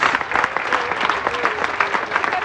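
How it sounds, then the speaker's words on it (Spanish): Members of a church congregation clap in praise during a Spanish-language worship service, a lively, uneven burst of close, distinct hand claps rising and falling in loudness, with a faint tonal voice or instrument beneath. "Un aplauso a nuestro Señor, mis amados hermanos"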